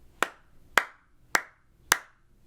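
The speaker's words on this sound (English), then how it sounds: "now we're going to clap it out" Hands clap out a steady beat during flute practice, four crisp, evenly spaced claps heard close and alone in a quiet room.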